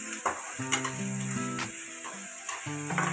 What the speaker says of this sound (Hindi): इसे हल्का ब्राउन होने तक भूनते रहेंगे